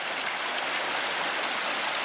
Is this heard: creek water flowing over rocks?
yes